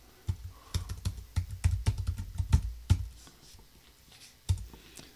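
Someone types on a computer keyboard in irregular bursts of close, crisp key clicks and thumps, with pauses between and a final lone tap.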